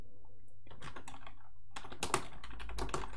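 Computer keyboard typing: a quiet start, then bursts of rapid key clicks that grow denser and louder in the second half, with no voices.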